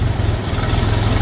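Small walk-behind tractor engine chugging steadily while driving across a small garden plot, a continuous low, rumbling idle-like drone close by with no voices.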